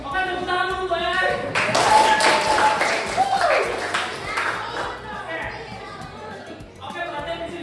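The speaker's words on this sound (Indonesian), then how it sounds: "Oke, tepuk tangan dulu, guys." Classroom of students clapping together in a burst of applause that swells and fades, with chatter and a voice over it.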